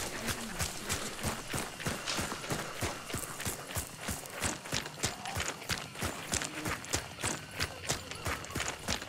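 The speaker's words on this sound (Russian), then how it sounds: "Я слышал коня откуда-то слева." Horse hooves in the video game Hunt: Showdown: a steady, rapid clip-clop of a running horse, moderately distant and fairly quiet, with no talking.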